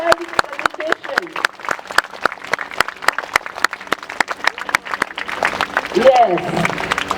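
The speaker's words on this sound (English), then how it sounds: "So everyone, clap for yourself for your very overwhelming presentation." A school audience at an Independence Day celebration claps in a steady, rhythmic beat, the sharp even claps carrying on throughout while voices talk and call out over them near the end.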